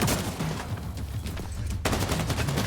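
Rapid bursts of gunfire-like blasts from a manual grenade launcher in a video game, a dense fusillade that breaks off briefly and then resumes, loud and close.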